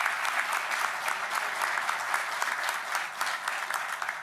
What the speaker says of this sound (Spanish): un aplauso que seguro anda trabajando